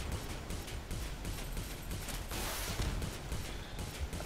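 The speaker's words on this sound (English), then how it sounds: "Fire some more missiles at it." Spaceship combat in the Star Conflict video game with repeated rapid firing of weapons and missiles, a continuous quiet stream of bursts and whooshes with no talking.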